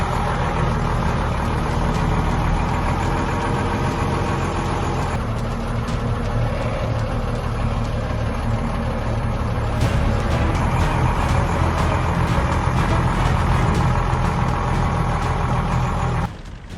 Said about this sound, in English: The engine sound is deep and calm, but beneath it lies extraordinary power.